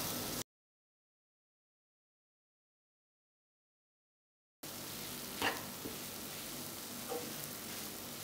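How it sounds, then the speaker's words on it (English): Jaggery melts with grated coconut in a pan, giving a steady, soft sizzle that drops out completely for a few seconds before returning, with a couple of faint clicks. "Continue to cook this till the jaggery melts completely."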